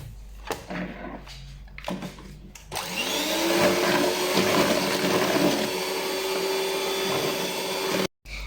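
An electric mixer whirs at high speed through muffin batter made with yogurt and milk. The loud, steady motor drone starts after a few clunks of handling and runs without pause, with no talk over it.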